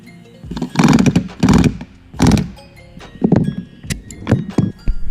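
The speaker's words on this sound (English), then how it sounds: "We take our bucking bar, we put it on the back side, and we take our rivet gun and put it on the front side," A pneumatic rivet gun pounds a rivet against a bucking bar in several loud, close bursts of rapid hammering separated by short pauses, with no voices.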